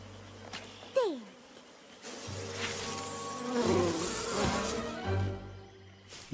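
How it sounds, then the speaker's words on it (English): A swarm of flashbees from a cartoon buzzing: a droning, wavering insect hum that swells and fades across several seconds, with a brief descending whistle-like effect near the start. "Flashbees can get pretty aggressive."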